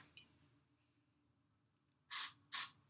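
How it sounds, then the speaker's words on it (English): An Axe Daily Fragrance body spray can is pressed twice in quick succession, two short, close aerosol hisses after a quiet pause. "And you spray it."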